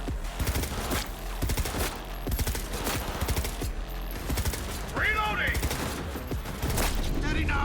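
Rapid gunfire in Cyberpunk 2077, dense loud bursts of shots and mechanical clatter throughout, with someone speaking partway through.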